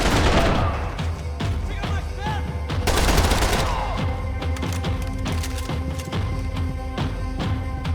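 Rapid gunfire from the video game Max Payne 3, with dense bursts of automatic shots and sharp single cracks, loud and continuous throughout.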